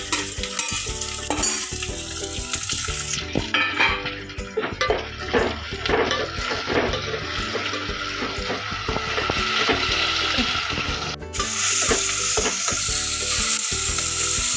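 Onions, tomatoes and green chilies fry in a pan for egg pulusu, giving a loud, continuous sizzle broken by scraping stirs and clinks of a utensil against the pan, close throughout.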